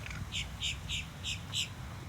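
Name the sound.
birds chirping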